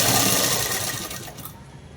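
A sewing machine stitching a thin folded cloth strip runs in a fast, steady mechanical whir, close and fairly loud, easing off toward the end.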